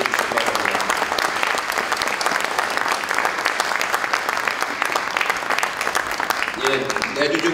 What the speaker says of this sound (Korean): 굉장히 박수 보내주시기 바랍니다